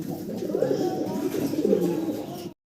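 A pair of fancy pigeons coos softly and steadily at close range, a continuous low rolling murmur that stops suddenly.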